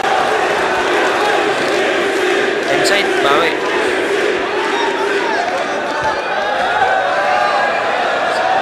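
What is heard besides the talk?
FlipTop rap battle crowd going wild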